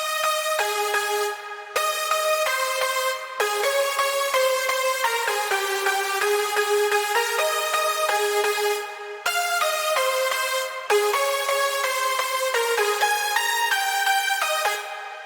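Layered progressive house synth lead, a full, loud, bright stack of plucky synth layers playing a continuous sustained melody with rhythmic note changes, no voices.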